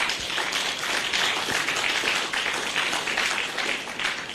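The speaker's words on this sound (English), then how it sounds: "A big round of applause." A keynote speech audience claps steadily, a dense, even patter of many hands sustained throughout, with no pauses.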